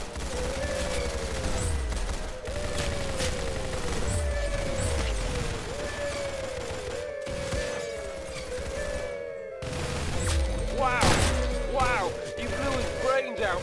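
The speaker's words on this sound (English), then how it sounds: "Very good shooting." Gunshots in a video game fire in a steady series of sharp reports with descending mechanical tails, dense and loud throughout, while a voice talks over them.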